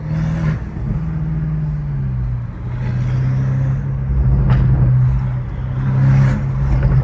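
Straight-piped BMW M5 Competition with a turbo engine, its exhaust droning loud and steady at low pitch with rises in revs throughout, close by and with no talk over it.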